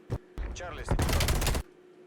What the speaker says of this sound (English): so you can listen for that first gunshot.